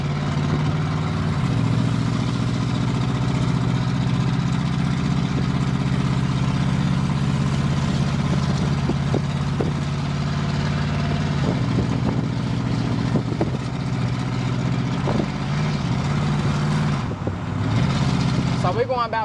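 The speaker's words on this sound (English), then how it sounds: "sometimes as the truck gets warm, it starts to run rougher, and then once she really gets stretched out, she'll start to run even smoother" A 1988 Chevrolet Silverado OBS short box single cab pickup idles steadily up close, its engine note a continuous low rumble that shifts pitch slightly partway through, with faint clicks and handling noises over it.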